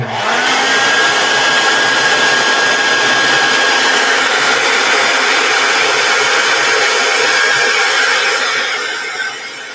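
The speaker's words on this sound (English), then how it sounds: "You want to be careful when you use hairdryer, because if you move it too close to the miniature, those thin elements can heat up" A hair dryer blows on a painted miniature to dry the paint, giving a loud, steady whirring rush of motor and airflow that runs continuously without break and tapers slightly at the very end.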